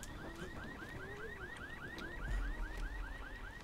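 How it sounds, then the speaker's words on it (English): Alarm in the zombie game Dying Light, a rapid repeating rising whoop cycling about four times a second, steady and moderately loud over a low rumble and a few thuds. "I need to turn that alarm off somehow."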